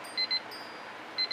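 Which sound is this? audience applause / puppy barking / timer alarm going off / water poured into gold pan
timer alarm going off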